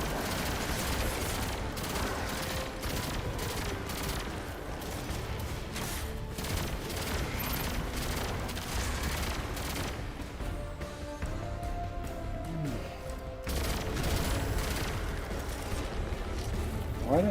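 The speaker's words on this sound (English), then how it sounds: "the bosses really take all day with a pulse rifle" Rapid pulse rifle gunfire and explosions in the video game Destiny 2, a dense, continuous barrage of bursts with booming impacts and layered game effects filling the whole stretch at steady loudness.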